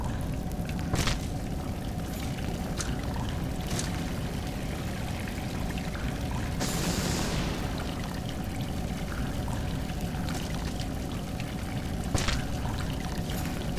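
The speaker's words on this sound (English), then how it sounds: "So I just follow the waterfall" Waterfall in the video game Salt and Sanctuary, a steady loud rush of falling water throughout, with a few brief splashy bursts over the constant roar.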